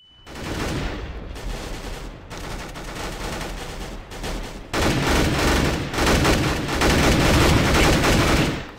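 Counter-Strike: Global Offensive gunfire in a round against counter-terrorists, a dense, continuous clatter of rapid shots that runs the whole length and swells louder in the second half, with no talk over it.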